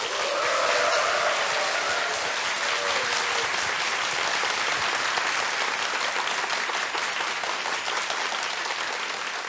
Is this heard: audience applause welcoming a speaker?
yes